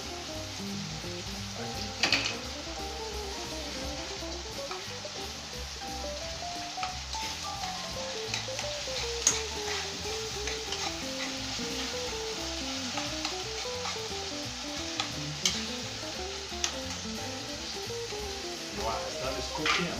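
Food fries and sizzles steadily in a pan while cooking, with a constant crackle, occasional stirring clatters and faint talk or music in the background.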